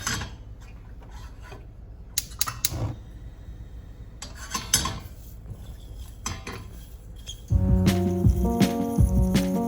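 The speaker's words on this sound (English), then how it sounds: "just put it into this pan and lightly toast it until we can really start smelling it" Orange peel and spices dry-toasting in a pan for katsu curry, with faint scraping and light clatter as they are stirred; steady tonal music swells in over the last couple of seconds.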